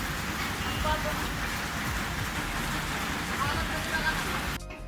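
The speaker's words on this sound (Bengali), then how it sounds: "আজকে প্রচুর বৃষ্টি হচ্ছে" Heavy rain hissing and pattering steadily close by, with a voice faintly present under the downpour.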